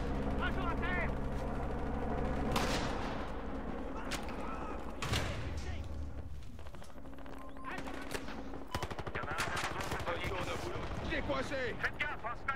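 Rapid automatic gunfire and heavy shots in the video game Battlefield Hardline rattle in dense bursts, loud and continuous, with someone talking over the action.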